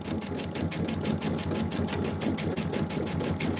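A sewing machine runs steadily, stitching a June Tailor Casablanca placemat with a fast, even mechanical whir and rhythmic needle beat, close and moderately quiet, with no talking.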